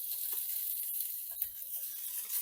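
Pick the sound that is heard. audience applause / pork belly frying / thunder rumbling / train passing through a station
pork belly frying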